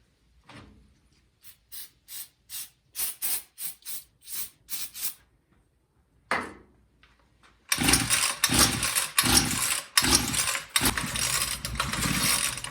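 A Homelite weed eater set to run with full choke and fed starting fluid: about a dozen rapid pull-cord yanks in uneven bursts, then a loud, rough, sputtering engine roar that carries on close by.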